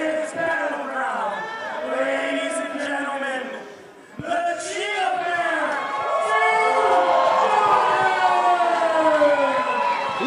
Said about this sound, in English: Listen to this crowd explode here for that cheetah bear